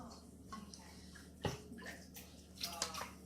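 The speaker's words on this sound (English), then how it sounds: "the next thing that I'm going to do is put 3 cups of water in each bowl" Three cups of water go into a mixing bowl while sourdough is prepared in a kitchen, a soft splashing pour with a few sharper clinks and drips, fairly quiet and with no speech.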